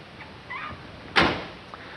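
A single solid 1967 Dodge Coronet R/T car door thump lands near the middle, close and fairly loud, with a faint click just before and after it.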